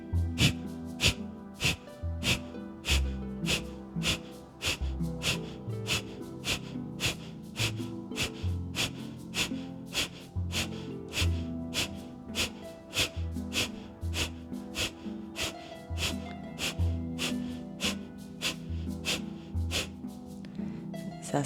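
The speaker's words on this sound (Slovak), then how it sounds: "Prejdeme si teraz dýchanie Kapalabhati. Aktívny výdych, pasívny nádych." Kapalabhati yoga breathing with forceful, sharp nasal exhalations repeated in a fast, even rhythm for about twenty seconds, close and distinct over soft background music.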